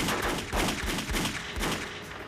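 Rapid bursts of gunfire from a 1994 film called Felony crackle in quick succession, loud and dense, like an ongoing shootout with overlapping shots and no pauses.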